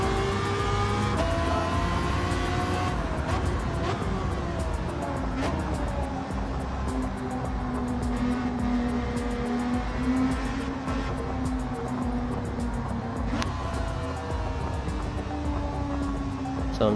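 A GR3 racing car drifting in the Gran Turismo video game produces a sustained engine drone whose pitch rises and falls as it revs, with other cars' engines and faint voices underneath.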